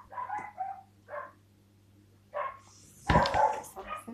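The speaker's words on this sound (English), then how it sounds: "sorry about my dog" A dog barks in a home kitchen, a few separate yips and barks spaced apart, with a louder burst near the end, mostly alone against quiet background hum.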